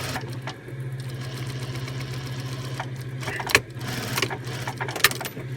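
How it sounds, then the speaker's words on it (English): A sewing machine back tacks a seam on a fabric bag with a steady motor hum and rapid stitching, broken by a couple of sharp clunks as it reverses and stops. "make sure you back tack all the way over the edge, and that you catch all the fabric"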